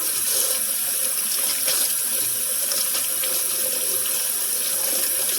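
Steady rush of water pouring from a kitchen faucet into a sink, continuous and close, with no voices.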